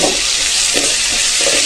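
Ginger garlic paste and chopped onions fry in a pan with a loud, steady hiss and a few soft rhythmic stirring strokes, very close and without any talk.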